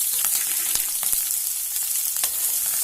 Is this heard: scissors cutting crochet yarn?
no